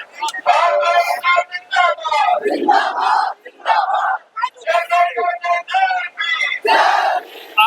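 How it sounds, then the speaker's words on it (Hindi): A large protest crowd at Jantar Mantar chanting Jai Bhim slogans, loud rhythmic shouted chants in repeated bursts with short pauses between, close and dominating, with a voice briefly audible. "नारे सुन सकते हैं, जय जय भीम के नारे यहाँ पे लग रहे हैं"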